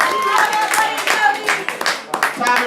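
A crowd at an Orlando poetry slam claps for two performers, a dense burst of hand claps heard alongside voices and faint tones.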